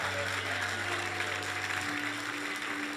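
A church congregation applauds during a sermon, a dense wash of clapping that holds steady throughout, heard at a moderate distance with a low sustained tone and some voices mixed beneath.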